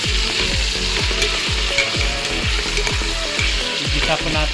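Food sautéing in a hot pan gives a loud, continuous close-up sizzle, with regular scraping and clattering strokes from stirring throughout.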